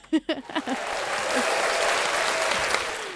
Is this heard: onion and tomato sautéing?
no